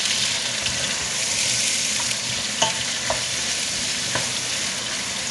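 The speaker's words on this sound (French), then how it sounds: "On va tout mélanger." Homemade chicken broth ingredients, including leek greens and whites, are stirred together in a pot, producing a continuous hissing sizzle with a few light clicks of the spoon against the pot, without any talking.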